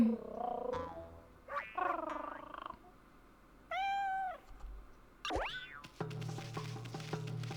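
A cat in the video game Okami HD gives a series of stylized meows and playful boing-like chirps, each short and distinct, separated by brief pauses, with a sharp sweeping tone near the end.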